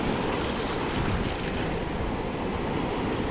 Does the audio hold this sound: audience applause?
no